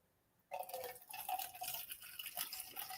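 Gin is poured into a red Solo cup, starting abruptly after a brief silence as a close, bubbling liquid stream with glugs and splashes that runs continuously to the end.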